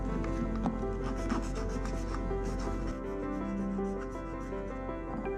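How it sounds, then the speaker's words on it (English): A hand file rasps along the cut edges of PVC pipe in steady back-and-forth strokes, close and continuous over a constant low hum. "take a file to take off the rough edges of the cuts"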